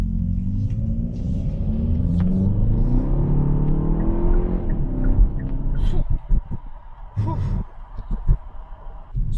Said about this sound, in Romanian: Dă-ne de muncă. Cui? Celor două evacuări.